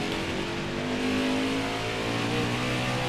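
A race truck in NASCAR Heat 5 on the Road America course, its engine droning steadily and loud, the pitch rising and shifting as it changes gears under acceleration.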